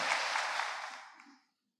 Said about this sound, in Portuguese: A salva de palmas para Jesus